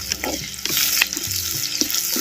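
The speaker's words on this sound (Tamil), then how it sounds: "சேர்த்த அனைத்து பொருளையும் அப்படியே தேங்காய் எண்ணெயில் நல்லா வதக்கு வதக்கணும்" Loud, close sizzling of garlic, ginger and other ingredients sautéing in coconut oil for a sardine fish gravy, with scraping stirring sounds over the steady crackle.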